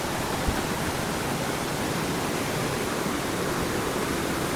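Water rushes steadily at a water intake, a loud, constant broadband roar like a stream or small waterfall close by, with no voices over it.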